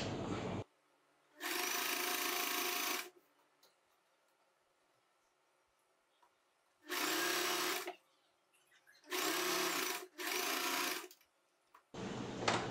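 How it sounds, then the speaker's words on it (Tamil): A sewing machine runs lock stitches along a churidar armhole in several short bursts of rapid, rattling stitching separated by quiet pauses, close and fairly loud. "ஒரு லாக் ஸ்டிச் போட்டு நம்ம தொடங்கிக்கலாம் இப்படி நீடி இன் பண்ணிவிட்டு நம்ம அந்த ஆம் ஹோல் கூட்டி வரலாம்"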